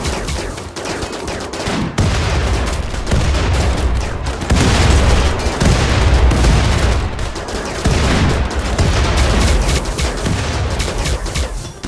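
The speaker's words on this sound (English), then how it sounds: "it's not explosive belts, it's our mass accelerator" Mass accelerator weapon firing in RimWorld with the RiftWorld mod: a dense, continuous barrage of loud overlapping shots and booms that swells and pulses steadily for the whole stretch, with no voices.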